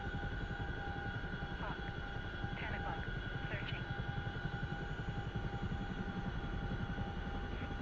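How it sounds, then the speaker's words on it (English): A CH-47 helicopter in a video game flies with a steady, pulsing rotor drone and engine whine, while voices talk over it on the radio. "Who knew you could scout from a CH-47?"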